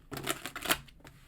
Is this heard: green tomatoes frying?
no